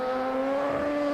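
A Norton superbike races at Cadwell Park during the 1988 Shell Oils King of Cadwell, its engine holding a loud, sustained high whine under power, close and continuous with no voices.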